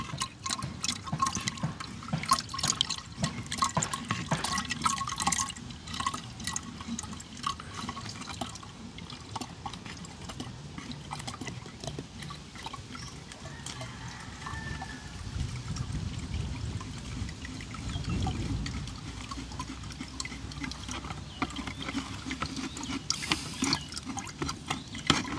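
Mango juice strained through a fine strainer gives a continuous wet trickle of pouring and dripping liquid, steady and close for the whole stretch.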